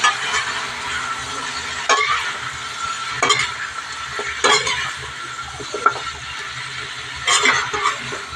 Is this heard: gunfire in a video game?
no